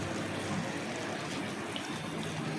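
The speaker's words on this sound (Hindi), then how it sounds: "पूरा 1 गिलास हम पानी डालेंगे।" A full glass of water poured into a pan of potato and aubergine curry on a low flame, heard as a steady, even wash of splashing and trickling, close and continuous throughout.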